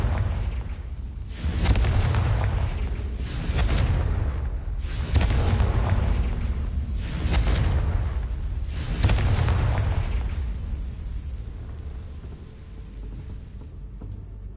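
A Confringo fire spell in Hogwarts Legacy bursts in a series of about five deep, rumbling booms at regular intervals, each rolling out before the next, fading to a low rumble at the end.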